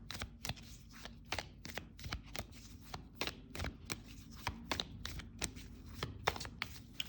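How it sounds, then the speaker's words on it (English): A deck of tarot cards being shuffled by hand, a quick run of crisp riffling slaps and flutters repeating in irregular bursts, close and fairly quiet, with no talking. "we'll just do another little shuffle of the cards"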